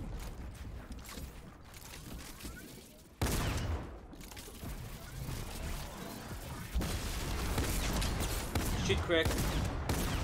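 Rapid gunfire and explosive blasts from the Fortnite video game, dense and continuous with sharp bursts and a loud boom partway through, while players talk over it.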